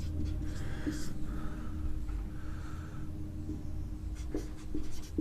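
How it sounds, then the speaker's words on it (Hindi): Writing on a board during a chemistry class, a steady scratching and scraping of strokes in short bursts, close and fairly loud, with faint breathing but no speech. "यहाँ पर एक ट्रिक लिख देते हैं।"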